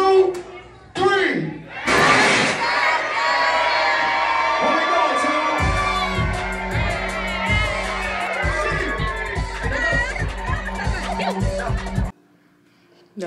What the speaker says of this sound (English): I need all y'all to scream to the top of your lungs